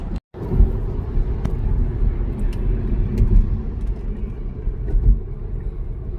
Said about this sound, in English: hit recording right as the fucking traffic was coming to a stop